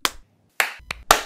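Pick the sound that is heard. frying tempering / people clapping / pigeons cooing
people clapping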